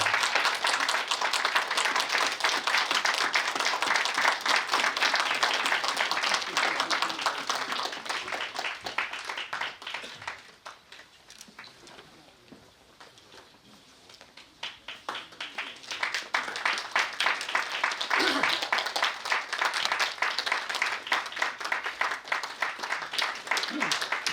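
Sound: audience applause at a ceremony

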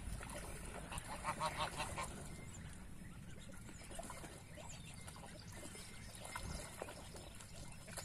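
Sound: geese honking by a pond

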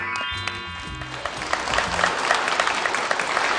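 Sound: audience applause welcoming performers

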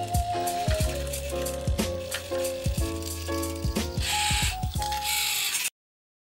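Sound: toothpick-dispensing robot hand mechanism moving

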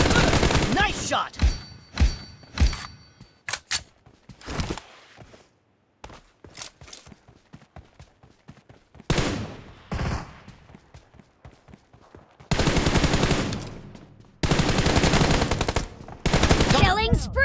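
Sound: gunfire in a shooting video game

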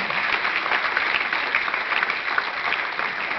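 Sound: audience applause

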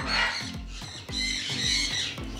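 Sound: cockatoo squawking at an aviary

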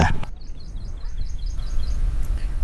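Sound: birds singing in the province

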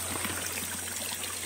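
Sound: mountain stream and small waterfall flowing

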